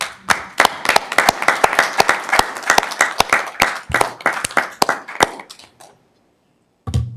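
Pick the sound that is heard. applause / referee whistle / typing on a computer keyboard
applause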